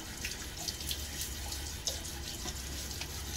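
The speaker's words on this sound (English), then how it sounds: "What I do is throw a little water on my face before I do that." Water from a tap splashes steadily as it is thrown onto the face before lathering for a shave with a Gillette ABC Pocket razor, a continuous close rush of running water with small splashy bursts and no talk.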